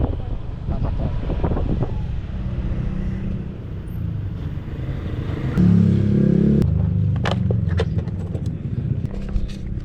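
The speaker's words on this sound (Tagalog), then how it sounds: "Hangin niya nga po." Strong wind buffeting the microphone with a low roar while riding a motorcycle taxi in Manila, vehicle noise and occasional voices mixed in, gusting harder midway.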